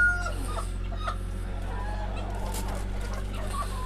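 Hens cluck softly and intermittently nearby, scattered low calls over a steady hum of background noise.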